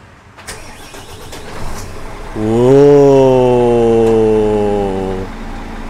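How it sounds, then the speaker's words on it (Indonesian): A Mercedes-Benz truck's diesel engine is push-button started: a brief cranking whir, then the engine catches with a loud, steady harmonic rumble that rises slightly and settles into idle, close by. "Ya, kita coba nyalakan mesinnya ya."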